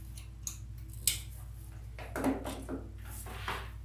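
Scissors snip through artificial Christmas greenery for a wreath, a few separate close cuts and rustles spread across a few seconds over a low hum, without speech.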